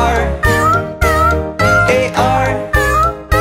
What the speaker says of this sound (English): there was a farmer who had a cat, and Oscar was his name.